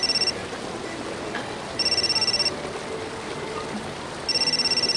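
A telephone rings indoors in three short bursts of bright trilling ring separated by pauses, loud and close over a steady background hiss.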